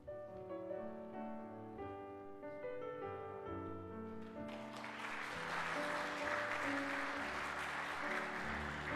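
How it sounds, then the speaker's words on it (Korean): A church congregation at a Sunday worship service applauds in celebration, the clapping swelling up over soft sustained organ or keyboard music and building to steady, full applause. "우리 축하의 박수 함께 쳐드리겠습니다"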